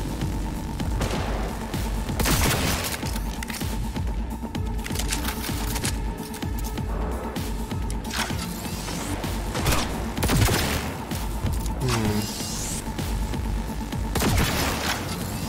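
Continuous rapid gunfire in Cyberpunk 2077 on very hard difficulty, dense clattering bursts filling the whole stretch at steady loudness.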